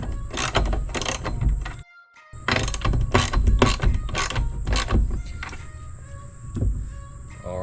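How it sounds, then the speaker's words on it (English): A wrench and socket tighten bolts on a UTV gun rack, giving loud bursts of rapid ratcheting clicks with a brief pause early on, then more clicking that fades toward the end. "I'm gonna get a wrench and a socket. We're gonna tighten these up."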